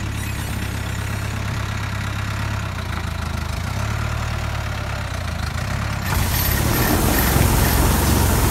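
A tractor engine works through an olive harvest, idling with a low steady hum and mechanical throb before revving harder into a louder, rougher roar near the end; no voices.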